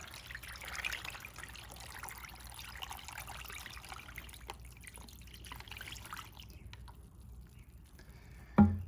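Vinegar trickles from a gallon jug into a cheap pan holding rusty Porsche Boxster 986 brake parts, a faint steady dribble and splash that ends with a louder knock.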